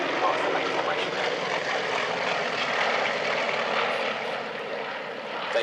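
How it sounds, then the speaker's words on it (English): A red and white Yak 50 propeller aircraft flying aerobatic formation with other Yak 50s, a steady, fairly loud engine drone that eases slightly toward the end. "flying the red and white Yak 50, departing off to the right-hand side"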